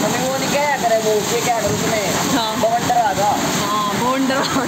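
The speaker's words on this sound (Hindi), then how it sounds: "तूफान आ गया तूफान और तूफान में ओले" Hail and rain pour down in a storm, a steady loud hiss and patter filling the background while a person talks over it throughout.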